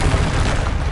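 A Confringo spell blast in Hogwarts Legacy hits as a loud, close, rumbling burst of fiery noise that fills the whole short moment.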